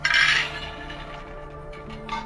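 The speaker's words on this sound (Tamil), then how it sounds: "2 கப்பு வேர்க்கடலை போட்டுருக்கேன்." Dry peanuts are poured into a pan, a brief bright rattling rush at the start that quickly thins to a few scattered clinks of nuts settling, close and clear with no talking.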